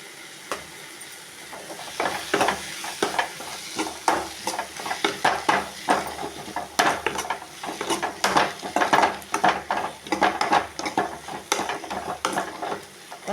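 Spoon stirring and scraping through a low sizzle as asafoetida powder is sautéed in a pan on low heat for a ridge gourd chutney, with steady irregular scrapes up close and no talking.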